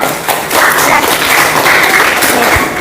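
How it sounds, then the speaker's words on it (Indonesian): Students in a classroom applaud Fajar's group with a brief, loud round of close hand clapping that rises after a soft start and holds steady, with a thump near the end. "beri tepuk tangan dulu buat kelompoknya Fajar"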